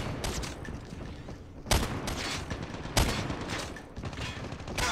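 Gunfire from the Outlaw sniper rifle in Call of Duty Mobile, fired from the hip, with a few sharp loud shots spaced over a second apart over a constant game background rumble.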